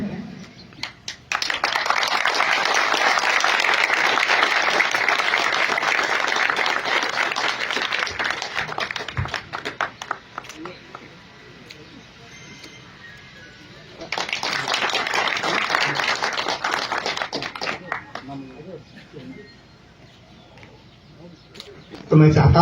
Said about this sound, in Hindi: आप लोग जोरदार तालियों से